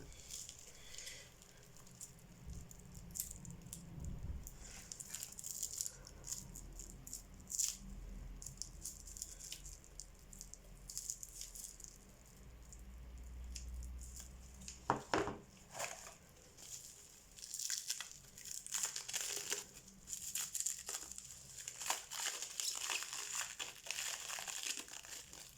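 Scissors cut through heavy protective plastic packaging around Yu-Gi-Oh! cards, producing close, continuous crinkling and crackling with sharper snips and rustles throughout, no talk.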